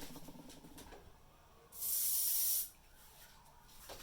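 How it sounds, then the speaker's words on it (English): A single close burst of spray hisses for about a second in an otherwise quiet room. "I'll spray this one."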